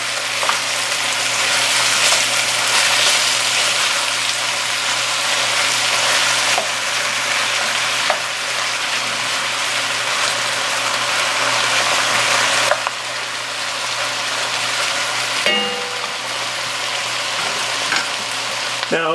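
Ground beef sizzles and fries steadily in a pan for chili with beer and chocolate, with occasional scraping and stirring as the meat is broken apart, loud and continuous throughout.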